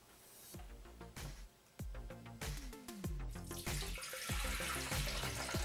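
Water, 500 grams, pours into a Thermomix TM5 bowl, a close splashing stream that grows fuller and louder as the level rises, with no one speaking.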